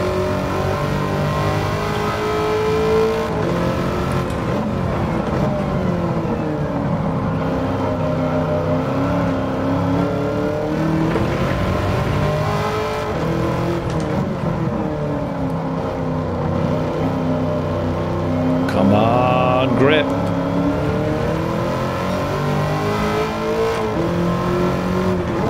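A 2009 Corvette C6 ZR1 racing around Watkins Glen in Gran Turismo 7, its engine roaring steadily and loudly throughout as revs sweep up and down through gear changes, with no talk.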